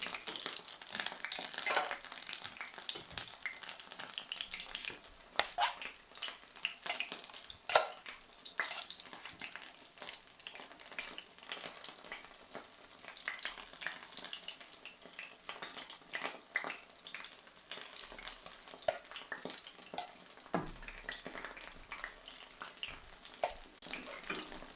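Battered chicken frying in oil on low heat, giving a steady, soft bubbling crackle with irregular small pops throughout, close but fairly quiet, with no talk.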